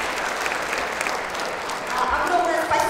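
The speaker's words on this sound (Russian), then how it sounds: "можно аплодировать бесконечно долго" Festival audience applause rolls on continuously, a loud, dense clapping that swells slightly near the end, with a voice speaking faintly under it.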